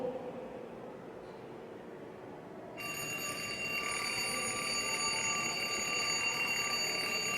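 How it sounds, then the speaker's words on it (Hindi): An alarm clock ringing, played as a sound example in a science lesson: a faint hiss at first, then a loud, sustained, even electronic ring cuts in abruptly and continues steadily to the end. "ये अलार्म क्लॉक की आवाज़ है।"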